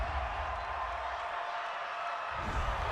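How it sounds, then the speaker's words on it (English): Football stadium crowd at a New York Jets versus Dallas Cowboys game reacting to a penalty call, a dense sustained roar of boos and noise from a large crowd, steady and broad throughout. "this crowd does not like that call"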